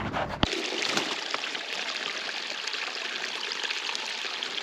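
A stream flows past an old beaver dam in the Quebec woods, its steady rushing and trickling close and continuous, with a brief knock near the start.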